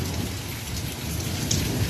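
Heavy downpour hammers a flooded yard with a dense, continuous roar of rain on surfaces, with thunder rumbling low underneath throughout.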